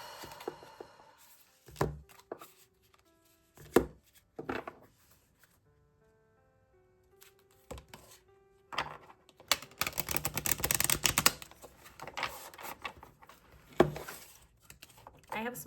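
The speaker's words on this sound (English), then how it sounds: "So we're going to shuffle a little bit." A tarot card deck is shuffled by hand in short bursts of papery riffling and soft shuffling, separated by quiet pauses and growing busier near the end.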